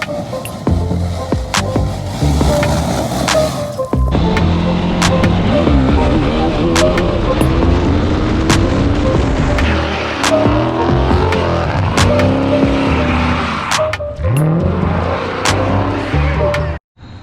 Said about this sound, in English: This is my 2014 Chevrolet Corvette Stingray with the Z51 Performance Package.